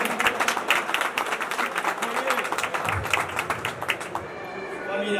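An audience claps for Chico, a school founder, at an evening of tributes and inaugurations at a samba school; dense, steady applause with voices underneath, fading out at the end.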